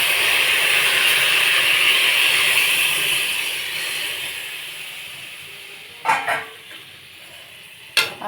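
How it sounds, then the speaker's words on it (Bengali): Water poured into a hot pan of sautéed vegetables for dal shukto, giving a strong steady hiss that slowly fades, followed by two short scraping stirs near the end. "এবার একটু জল দিয়ে দেবো।"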